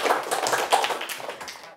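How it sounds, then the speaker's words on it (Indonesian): A class of students claps in a classroom, a short burst of quick, close hand claps lasting under two seconds before stopping abruptly. "kita beri tepuk tangan dulu untuk Majid, Sipa, dan Raka atas jawabannya"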